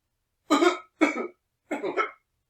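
Three sharp coughs in a row, close and fairly loud, separated by short silences.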